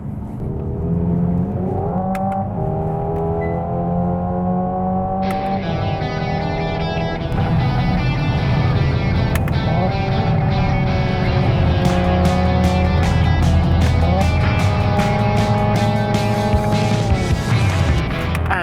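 A Hyundai IONIQ 5 N switches out of eco mode and accelerates hard, its synthetic engine note climbing in loud, repeated stepped surges like simulated gear changes, with a racing-car rasp running steadily throughout.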